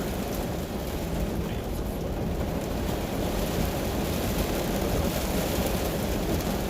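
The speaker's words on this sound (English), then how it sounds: "I don't know if you guys can hear me perfectly with all the rain." Steady heavy rain pours continuously with a low rumbling wash underneath, a dense, even roar filling the whole stretch with no voices.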